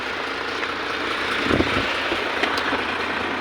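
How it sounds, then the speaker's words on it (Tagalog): An Isuzu Forward boom truck idles nearby, a constant broadband engine rumble with a slight swell in the middle. "Meron tayo ditong Isuzu motor forward. Meron siyang boom."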